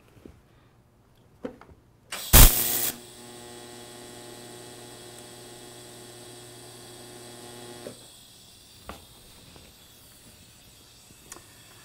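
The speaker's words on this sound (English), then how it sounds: "I'm going to start by tacking the outside corners," TIG welding tack on the outside corner of a square tubing joint, using a 332 tungsten with no bevel and a wide gap: a sharp arc start, then a steady buzzing hum held for about six seconds before stopping, followed by faint clicks.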